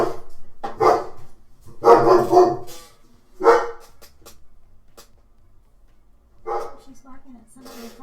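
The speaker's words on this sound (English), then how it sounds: "she's barking at somebody across the street" A female dog barks at someone across the street with a mean, aggressive tone: several close, loud bursts of barking come in irregular clusters with quiet gaps between them.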